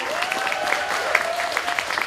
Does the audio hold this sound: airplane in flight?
no